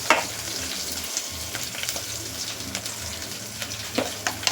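Beaten egg mixture with chopped coriander frying in a pan for an egg dish, a dense continuous sizzle with repeated scraping strokes of a spatula stirring it, close and steady with no voices.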